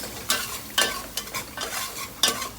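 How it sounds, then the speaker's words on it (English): Curry powder seasoning frying in a pan for Trinidad-style banana or fig talkari, with a soft sizzle under repeated scraping stirs at roughly half-second intervals, close and without talk. "Let's fry a little bit"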